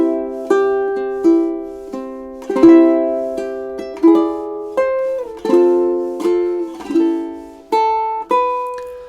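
A ukulele picks out the melody of a song, bright plucked notes and strummed chords in a steady rhythmic phrase, clear and alone.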